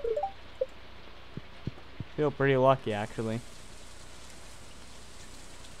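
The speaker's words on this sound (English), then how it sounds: "Really? Rain? Again?" Rain in the video game Stardew Valley makes a soft, steady hiss in the background, with a few short chimes and someone talking briefly over it.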